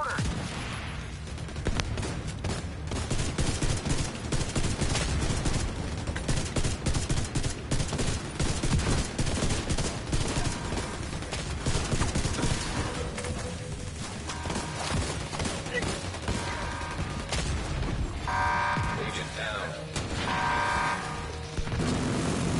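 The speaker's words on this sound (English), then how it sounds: "Fire at their position. Support them with mortar." Video game battle with dense bursts of automatic gunfire and heavy mortar booms, loud and continuous throughout with little pause.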